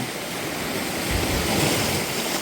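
Ocean waves hit the shore in Puerto Rico, a dense, continuous roar of surf swelling briefly louder midway, with no voices over it.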